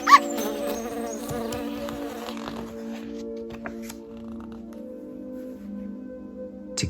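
Bees buzzing softly as background ambience behind a calm children's read-aloud story, a steady, low insect drone with no voices.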